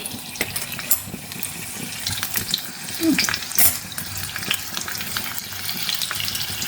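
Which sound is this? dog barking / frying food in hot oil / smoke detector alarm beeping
frying food in hot oil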